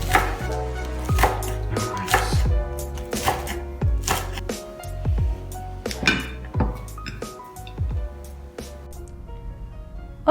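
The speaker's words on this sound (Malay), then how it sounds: "Lima helai daun bawang dihiris kasar." Five spring onions are coarsely chopped with a knife on a cutting board while soup is prepared, giving a steady series of sharp, close knocks at an uneven rhythm with brief pauses.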